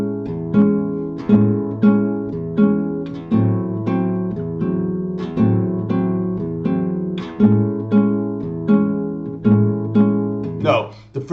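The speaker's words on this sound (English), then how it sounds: "So I'm going to alternate the bass, so it's going to sound like this." Bossa nova on guitar: the thumb alternates bass notes while the fingers pluck chords together, in a steady repeating pattern of clear, close, ringing notes.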